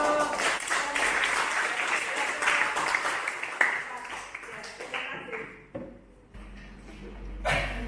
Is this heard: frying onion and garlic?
no